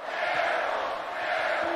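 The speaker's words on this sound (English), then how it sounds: "this crowd is into it" A basketball arena crowd roars for Maryland at Michigan State, a broad sustained cheer that fills the hall, loud and steady with no single voice standing out.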